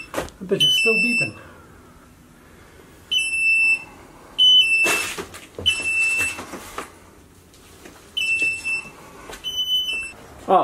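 A smoke alarm gives repeated high-pitched beeps in short bursts, with people talking and moving around nearby between the beeps.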